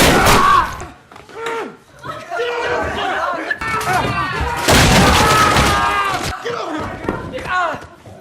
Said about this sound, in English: A barrage of gunfire tears through the house.